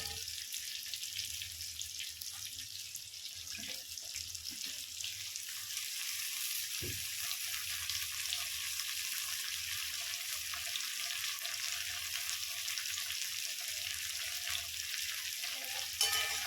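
Potatoes and cauliflower fry in a pan with a steady, close sizzle and occasional scraping stirs, running continuously without speech.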